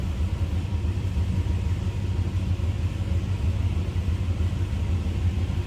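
A continuous low rumble from a 1964 Chrysler 300 convertible's 383 V8, heard up close from the rear, runs steadily and evenly throughout with no other sounds on top.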